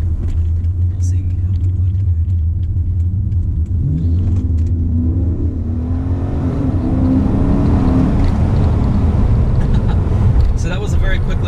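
A Hemi 5.4 litre V8 muscle car pulls hard from a standstill, its deep, steady engine rumble swelling and climbing in pitch through the run, loud and close throughout.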